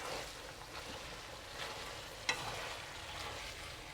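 Chai sim greens stirred into a pan of braising vermicelli with pork ribs, giving a steady close sizzle and soft scraping of a utensil, with one brief sharp knock partway through.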